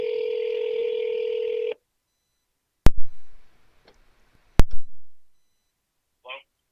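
A steady tone from a Google Voice phone call holds for nearly two seconds, then two sharp clicks follow, each with a short thud, and a faint brief chirp comes near the end.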